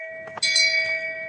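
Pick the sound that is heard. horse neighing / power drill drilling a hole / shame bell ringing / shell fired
shame bell ringing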